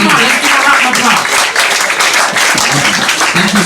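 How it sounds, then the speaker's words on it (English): A comedy club crowd at a live stand-up show gives loud, close applause, the clapping dense and continuous with voices and cheering mixed into it. "Come on, let's give a round of applause."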